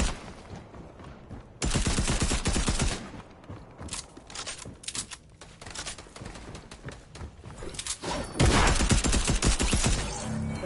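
Fortnite gunfire in the middle of a match: loud bursts of rapid automatic shots come in several long volleys, with sharper single sniper cracks scattered between them and no voices.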